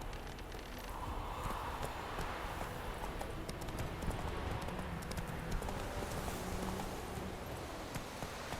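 Horse hooves clip-clop steadily while riding through The Witcher 3 game world, a continuous moderate trotting rhythm beneath faint ambient game sound.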